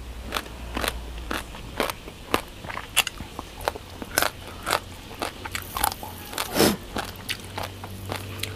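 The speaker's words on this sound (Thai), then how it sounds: "กรอบ" Crispy clay-jar roasted chicken eaten with spicy papaya salad: a steady run of sharp, close crunching bites and chewing crackles, repeated roughly every half second, without talk.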